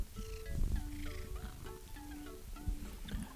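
A pet cat vocalising close by, murmuring purr-like sounds with small meows, heard over a video game's background music.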